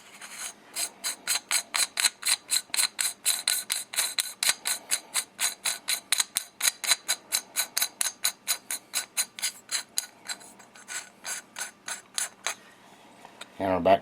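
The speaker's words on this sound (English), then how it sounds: "Next, we'll just go ahead and take your castle nut and screw it on." A castle nut is threaded onto an AR-15 buffer tube by hand, giving a fast, even series of close ratcheting clicks that stops near the end.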